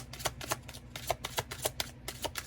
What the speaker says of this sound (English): we are going to pull these Romance Angel Oracle cards